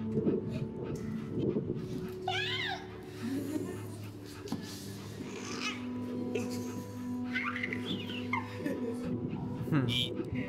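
A dog whimpering in the video game That Dragon, Cancer, with thin, rising whines repeated a few times over soft background music while a person talks and laughs.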